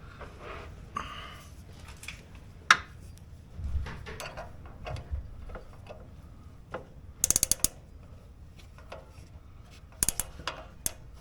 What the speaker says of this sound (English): See if I can even do that with this ratchet.